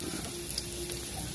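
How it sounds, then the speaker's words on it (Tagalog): Buro, fermented rice, sautés in a pan with a soft, steady sizzle, faint and brief, with no voices. "magigisa tayo ngayon ng buro"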